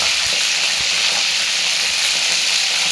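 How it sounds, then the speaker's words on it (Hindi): Cauliflower pieces frying in a pan, a dense, even hiss of hot oil sizzling steadily from start to finish, close and fairly loud with no talking. "इसके बाद में मैं इनको कर रही हूँ फ्राई।"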